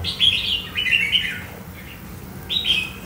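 Red-whiskered bulbul (chào mào) kept as a caged songbird, giving a few bright, close chirping phrases in two short bursts with a brief quiet gap between.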